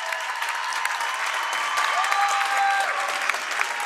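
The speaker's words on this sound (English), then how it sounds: "Gets a nice hand from the crowd." A gymnasium crowd at a Massachusetts girls' Division 3 high school basketball tournament game, Dover-Sherborn vs. Tantasqua, applauds steadily for nearly four seconds with dense, even clapping and no talk over it.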